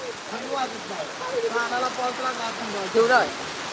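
Torrential cloudburst-like rain in Pirachi Kuroli pours as a thick, constant roar while someone talks close over it.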